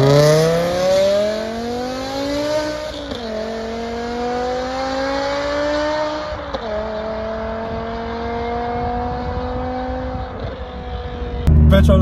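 A BMW M6 E63 with its V10 engine pulls away, the rising engine note climbing through several gear changes with short dips between shifts, heard loud and steady from inside the car.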